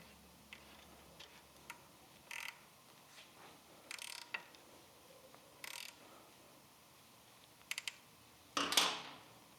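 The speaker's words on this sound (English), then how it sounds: "Our 6mm Allen, tighten it up." A 6mm Allen key tightens a clamp on a Triumph Thruxton RS motorcycle, giving faint scattered metallic clicks and short ratcheting bursts in a quiet workshop, with one louder scrape near the end.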